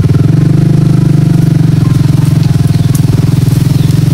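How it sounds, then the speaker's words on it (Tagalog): A nearby motorcycle engine throbs loudly and steadily, its low pulsing rumble holding an even rhythm with no other sounds over it. "Ayun guys, may motor."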